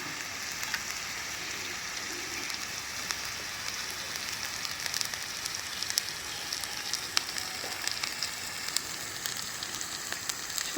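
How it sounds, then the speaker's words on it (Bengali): Onions fry in a pan with a steady, even sizzle and faint crackles that run throughout, close by and with no voices over it. "পেঁয়াজটা একটু ভাজা ভাজা হোক।"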